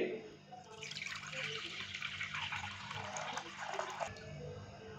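Full-fat milk, about three cups, pours in a steady close liquid stream into a large bowl for several seconds, then stops, over a faint background hum.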